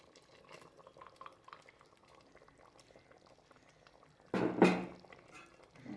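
Boiling mud crab curry bubbles softly in a pot, then paste is tipped in and stirred through with a sudden louder burst of sloshing and scraping that fades after a moment.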